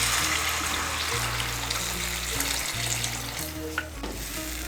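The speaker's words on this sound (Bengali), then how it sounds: "আমি এর মধ্যে 2 কাপ গরম জল দিচ্ছি" Two cups of hot water go into a sizzling potato curry masala in a pan, producing a loud, steady frying hiss with bubbling and trickling close by, no voice over it.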